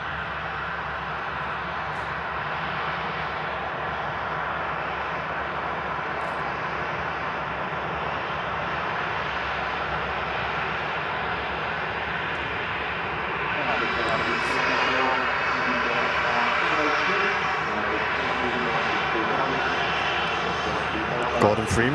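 A Ryanair jet airliner rumbles in a steady, broad engine roar as it vacates the runway, growing slightly louder toward the end, with a voice talking over it throughout.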